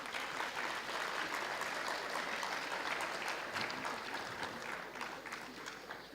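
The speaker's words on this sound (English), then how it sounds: "A big round of applause to these students." Audience applause for graduating students at a university degree award ceremony, a dense, steady roar of many hands clapping throughout at constant loudness.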